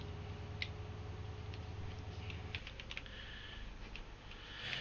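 Mouse and keyboard used while playing Farming Simulator 2015, giving scattered faint clicks and taps over a steady low hum of game and room noise, with no talking.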